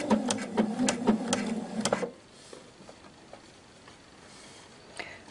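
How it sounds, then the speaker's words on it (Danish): A sewing machine runs a straight stitch along the fold of a pleat for a pleated skirt, a quick rapid rattle for about two seconds, then stops, leaving faint handling noise. "Og jeg syr bare med helt almindelig ligeud søm."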